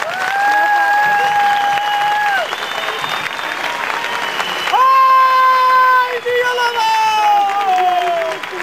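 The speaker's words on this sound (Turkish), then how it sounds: "Bir alkış daha rica ediyorum." An audience applauds a young folk dance group after a stage performance. The clapping is steady and full throughout, with sustained tonal sounds like a voice or instrument ringing above it.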